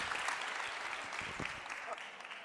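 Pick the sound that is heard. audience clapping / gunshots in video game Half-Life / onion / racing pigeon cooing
audience clapping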